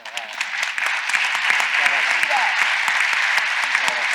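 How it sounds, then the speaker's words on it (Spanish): Audience applause at a school experience-sharing congress (Queen's School), dense steady clapping filling the room throughout, with some speech faintly mixed in. "yo le voy a pedir un aplauso"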